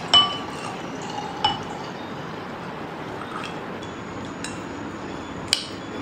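Glass clinks lightly a few times at a dinner of a home-cooked shrimp boil, with faint sharp ticks spread over a quiet background and a soft liquid hiss, fairly close by.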